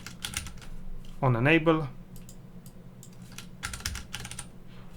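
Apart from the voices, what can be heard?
typing code on a computer keyboard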